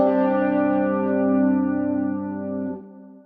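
A guitar plays through a clean amp model on a Valeton GP200 multi-effects unit at default settings, with one sustained ringing chord held for nearly three seconds before it is cut off abruptly.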